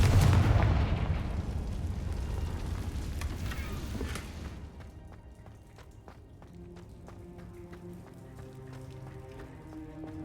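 A Confringo fire spell going off in the Hogwarts Legacy video game, a loud heavy burst fading into crackling debris and a steady rumble, followed by light chiming game tones.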